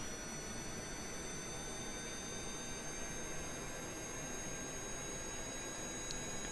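An AV-8B Harrier jet engine in Kerbal Space Program roars steadily through a takeoff run, with a constant broadband rush and thin high whining tones throughout and no talking.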